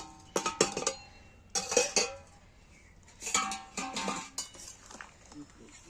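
A metal lid set onto a cooking pot of boiling shrimp, giving several short clinks and clatters in bursts of kitchen handling, close and moderately loud.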